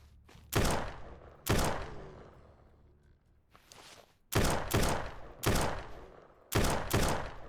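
Gunshots in the zombie survival game SurrounDead, fired with night vision on: sharp, loud single and paired shots at irregular intervals, each ringing off briefly into a quiet background.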